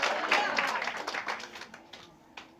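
A church congregation claps together, a dense burst of applause that thins into scattered claps and fades over about two seconds, with one last clap near the end.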